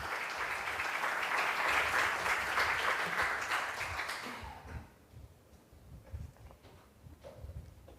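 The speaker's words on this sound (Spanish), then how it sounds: "Le brindamos un fuerte aplauso, bienvenido, le cedo el micrófono." An audience applauds to welcome a speaker at a lecture, clapping full and steady for about four seconds before fading away into quiet room tone with faint shuffling.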